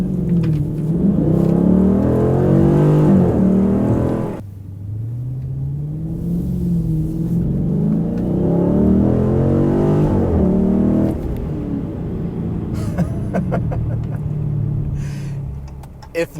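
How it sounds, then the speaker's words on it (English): A 2020 Dodge Challenger R/T Scat Pack Widebody Shaker 50th Anniversary V8 revs up and falls back several times, deep and loud, with a rumbling burble between sweeps, heard close with no talking. "That's just as American as America gets in terms of sound. Just that huge V8 and the gurgle."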